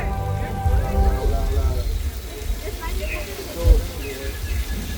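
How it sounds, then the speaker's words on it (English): Artificial rain pours from high-power sprinklers shooting water into the air on the Universal Studios Hollywood back lot, a loud steady hiss of falling water with a voice speaking over it and a low rumble underneath. "we create this rain effect using high-power sprinklers that shoots the water straight up into the air"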